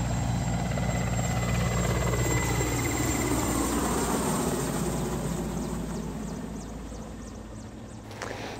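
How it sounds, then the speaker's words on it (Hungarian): A helicopter that has just dropped off passengers lifts off and flies away, a loud, close, continuous rotor and engine roar that slowly fades as it departs, with no talking over it. "Ahogy a gépet kipakoltuk, már repült is vissza a bázisra."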